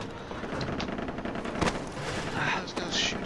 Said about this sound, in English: Those guys shooting at me.